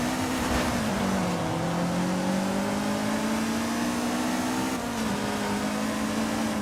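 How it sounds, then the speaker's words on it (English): A turbocharged car in Forza Horizon 5 drones at steady high load, its engine tone and turbo induction whine holding nearly constant with slight pitch dips, loud and continuous with no talking. "I like the induction sound of the turbo more than the exhaust sound."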